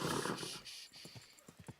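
Horse hooves clip-clop at a walking pace in the video game Kingdom Come: Deliverance II, a series of soft, evenly spaced thuds on hard ground after a brief burst of noise.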